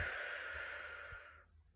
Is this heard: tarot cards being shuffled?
no